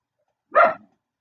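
A single short dog bark, close and fairly loud, standing alone against silence.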